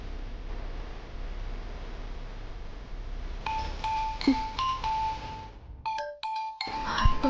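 A phone rings with a repeating electronic tone that starts partway through, over a low hum, with no voices.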